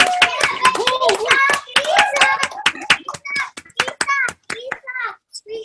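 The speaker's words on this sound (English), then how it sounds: "I need my son to come here and applaud with me" Scattered applause at a university art department convocation ceremony, sharp hand claps tumbling in uneven bursts while a voice chatters close by over them.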